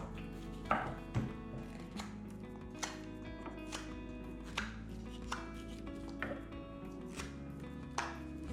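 A knife carving a wooden spoon, shaving wood off the back of the bowl: a quiet series of irregular sharp cuts and scrapes, close by and with no talking.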